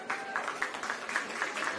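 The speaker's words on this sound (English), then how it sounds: "A round of applause there" Distant crowd applause at a women's football semi-final as a substitution is made, a soft steady patter of clapping heard from far off.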